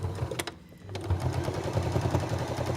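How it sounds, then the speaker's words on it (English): A sewing machine retraces the quilting lines on an oven glove, starting after a brief pause and then running in a steady close whir. "I'm going to retrace the quilting lines on this oven glove on my machine"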